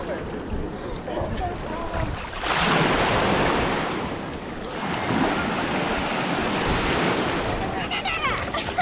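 Ocean waves break and surge on the beach at Venice Beach, Florida, in two big washes, with wind buffeting the microphone and people talking over the roar.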